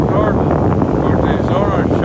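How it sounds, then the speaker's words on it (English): Steady north wind on a beach at Delnor-Wiggins buffets the microphone with a loud, continuous rumble, with faint voices mixed beneath the gusts. "that breeze has picked up."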